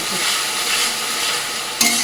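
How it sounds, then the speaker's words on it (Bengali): Onion, ginger and garlic paste fries in a pan with a steady, close sizzle, and a brief stirring scrape comes near the end. "পেঁয়াজ আদা রসুনটা বাটা মানে ভাজা হয়ে যাবে"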